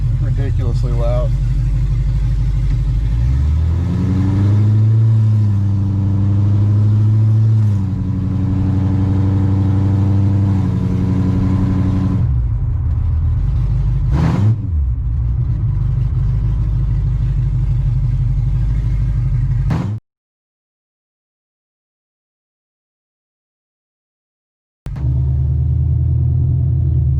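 A C6 Corvette V8 with a cam, long tube headers and a new intake, still untuned, rumbles loudly at close range, revving and surging through the gears before cutting out for several seconds, then resuming with a deep, steady rumble.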